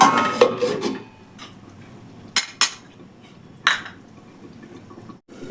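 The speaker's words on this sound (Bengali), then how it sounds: "এবার ঢাকা দিয়ে দেবো।" A metal lid is set onto a pot of simmering bean curry, giving a few sharp clanks and clatters over a soft bubbling background.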